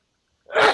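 A single human sneeze bursts out suddenly after near silence, close and loud, heard alone during an online meeting.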